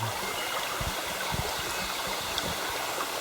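Water flows and gurgles steadily like a stream, with a constant rushing wash and occasional low burbles, no voices present.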